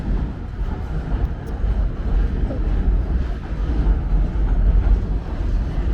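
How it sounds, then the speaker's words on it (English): A subway garbage train rumbles past on a Brooklyn line along New Utrecht Avenue, a heavy low-pitched roar and rattle that holds steady and swells slightly toward the end, with no talk. "That is a garbage train."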